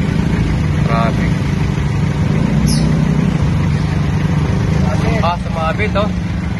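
Steady road traffic with motorcycles and cars idling and moving, a continuous loud engine rumble filling the scene while a voice talks over it.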